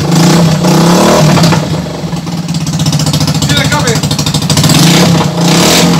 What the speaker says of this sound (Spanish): Así suena la moto sin el escape.